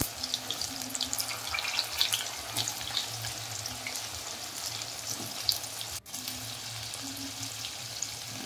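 Mango pieces dropped into hot mustard-oil tempering for Bengali mango pickle sizzle and crackle steadily, a close continuous frying hiss with small pops and a faint low burner hum beneath.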